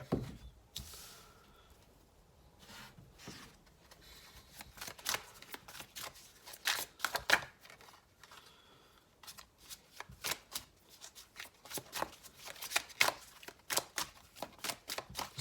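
Tarot cards from the Crystal Visions Tarot deck are shuffled up close and quietly, soft riffling and papery slaps coming in uneven bursts with short pauses between.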